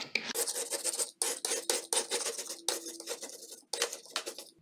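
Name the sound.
scraper scraping burnt grease off oven glass door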